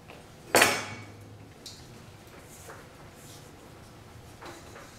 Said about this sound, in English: I'm going to take them out of this bowl and transfer them to another bowl for mixing up later